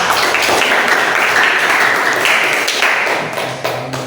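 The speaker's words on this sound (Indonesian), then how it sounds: "Tepuk tangan untuk kelompok 3." Loud, dense applause from a classroom of students for the presenting group 3, continuous and close, gradually easing toward the end.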